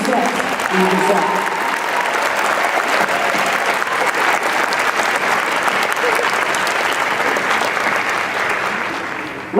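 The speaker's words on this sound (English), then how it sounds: "please give a round of applause to Mike Bednar and his team for the amazing set we designed" Audience at a Star Trek Continues panel at Phoenix Comicon 2013 breaks into sustained, loud applause, a dense wash of clapping from a large crowd that holds steady for about ten seconds before tapering off.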